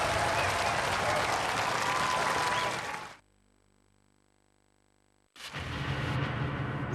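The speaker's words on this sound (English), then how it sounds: "Ladies and gentlemen, give them a round of applause." A studio audience at a robot combat show claps in loud sustained applause for about three seconds, falls almost silent, then bursts into clapping again.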